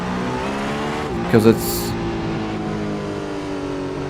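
A race car's engine in the Assetto Corsa video game holds a steady, loud multi-toned drone that climbs gradually in pitch as it revs, with a brief voice cutting in.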